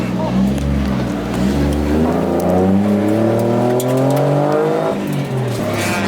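A Toyota MR2 drift car at a drift event revs hard, its engine note climbing steadily in pitch and staying loud and close throughout, with voices faintly under the engine.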